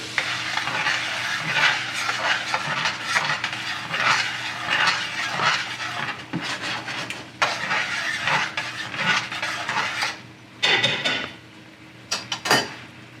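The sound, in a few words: stirring demi-glace into steak au poivre pan sauce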